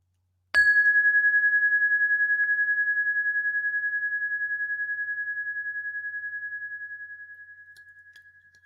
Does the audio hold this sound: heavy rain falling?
no